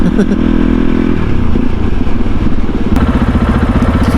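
A CSC RX4 motorcycle ridden with its exhaust baffle fitted gives a loud, close, throbbing engine and exhaust note, the pitch shifting as the rider works through the gears.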